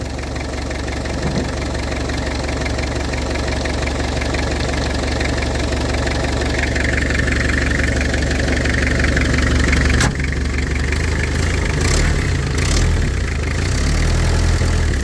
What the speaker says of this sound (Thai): ฟังเสียงเครื่องนี่ยังโอเคอยู่ยังนิ่ม